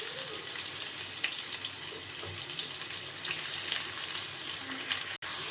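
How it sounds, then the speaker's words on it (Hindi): Onions sizzle steadily in hot oil in a pan, a continuous bright frying hiss with small crackles throughout, heard alone and fairly close. A brief click sounds near the end. "अनियन को हमने अच्छी तरह से सौते कर लिया है"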